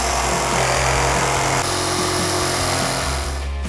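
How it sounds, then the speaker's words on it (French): A power saw whines steadily through a wooden template at close range, loud and continuous, with slight changes in pitch as it cuts. "on vient de scier finement le gabarit."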